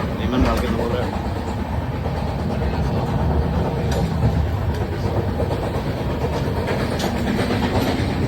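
The Kaziranga Express, a superfast train between Guwahati and Kolkata, runs along the rails with a continuous low rumble and rhythmic wheel clatter, heard close from inside the moving train.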